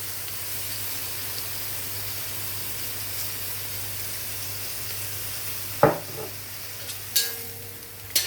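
Chop suey vegetables with chicken liver frying in a pan, a steady close sizzle with a few sharp clinks of a utensil near the end.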